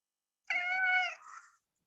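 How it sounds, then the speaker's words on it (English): A domestic cat meows once during a quiet meditation session, a single clear, drawn-out, tonal call about a second long that trails off, close and alone. "my cat is disturbing"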